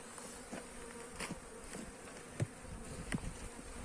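Honeybees at an opened hive, a dense, continuous buzzing swarm with individual bees zipping past close by, steady and fairly faint overall.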